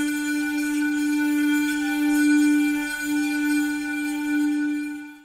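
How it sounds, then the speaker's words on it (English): A glass harp sample from a music production sound set, holding a sustained, shimmering tone with rich ringing overtones that swells slightly and fades at the end, heard alone. "glass harp,"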